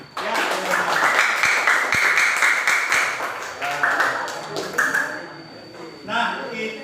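Classroom of students clapping together, a burst of brisk group applause with a few sharp taps, mixed with voices and chatter, then trailing off.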